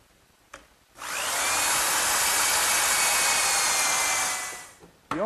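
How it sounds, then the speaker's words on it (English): Power drill boring a hole with a 1/4 inch brad point bit fitted with a depth collar: a loud, steady high whine for about four seconds, rising abruptly and tapering off, with brief clicks before and after. "Now to drill the hole, I'm just going to use a 1/4 inch brad point bit with a little collar"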